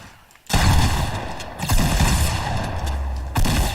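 Loud gunfire in a shooter video game: a sudden dense burst of shots after a quiet start, continuing in heavy volleys with a low rumbling boom beneath and another sharp burst near the end.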